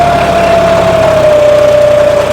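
A John Deere 5210 4x4 tractor engine runs steadily, loud and close, with a constant mid-pitched drone and a faint whining tone over it, no voices present.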